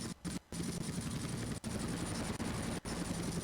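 Helicopter in Grand Theft Auto Vice City, a dense, loud rotor chop droning continuously, broken by a few brief dropouts, with rapid gunfire-like bursts mixed into the game noise.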